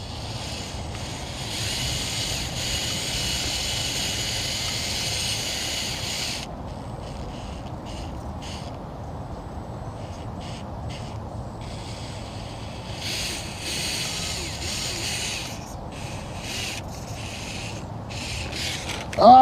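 An RCAWD 72T RC car with a 130 motor and two-speed transmission runs in low gear, giving a steady whirring, rushing drone that continues evenly for nearly twenty seconds at moderate volume.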